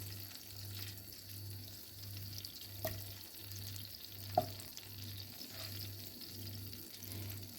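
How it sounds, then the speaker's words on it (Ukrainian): Butter sizzles softly in a frying pan, a faint steady crackle with occasional small pops, under a regular low pulsing hum and no voices. "Масло вершкове потрібно розігріти, щоб воно розтануло."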